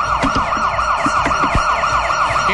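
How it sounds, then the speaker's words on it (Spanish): A police siren wails in a steady, fast repeating sweep, loud and close, with a few faint knocks and bumps underneath and no talking. "Ya oigo la sirena."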